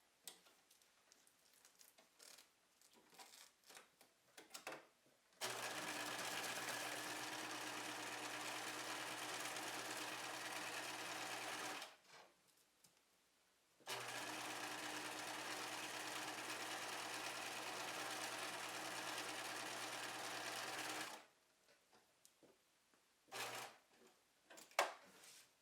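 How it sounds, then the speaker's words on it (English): A sewing machine stitching around the edges of a small bag with a Velcro closure hums steadily in two long runs, with a short pause between and light handling sounds before and after. "And then you're going to just sew around the edges."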